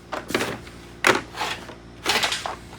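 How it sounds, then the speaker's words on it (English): A torque wrench is used while installing a track bar conversion on a 1994-2002 Ram 2500 truck. Three close bursts of sharp mechanical clicks come at roughly one-second intervals. "So we break out the torque wrench."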